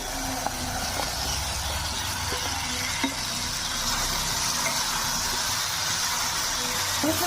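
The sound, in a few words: sautéing spiced masala with fried potatoes in a pan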